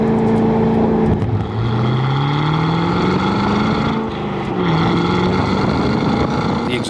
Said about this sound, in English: The exhaust sounds especially fantastic, echoing off of great big slabs of the Canadian Shield